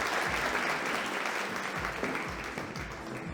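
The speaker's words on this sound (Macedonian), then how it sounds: "Громогласен аплауз за нашата прекрасна Жанет Маркушова" An audience at a fashion show breaks into sustained applause, a dense, continuous wash of many hands clapping that carries on loudly throughout, with faint crowd murmur underneath.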